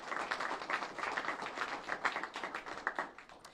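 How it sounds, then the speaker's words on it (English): People at the opening of the new Pawtucket High School give a round of applause, a fairly quiet, distant and steady patter of many hands clapping continuously for several seconds. "So you all should give yourself a round of applause for being here today."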